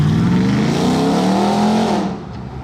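A Dodge car's engine revs hard and accelerates past on a road blocked off by police, a loud rising engine note that swells and then drops away as it recedes.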